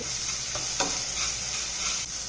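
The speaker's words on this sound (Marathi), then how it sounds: "आता मी अगदी छोटा चमचा तेल घातलेला आहे आणि पुन्हा हा मसाला थोडासा परतून घेत आहे" Masala paste sautés in a kadhai with a small spoonful of oil: a close, steady hissing sizzle with a few soft scrapes and knocks of stirring, and no talking.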